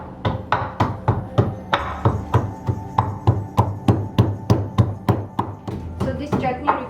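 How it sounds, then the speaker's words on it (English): Chopped ginger pounded for an instant chutney, a steady series of about eighteen sharp, even thuds at a brisk rhythm, close and loud, with no talk over it. "so I'll pound the ginger"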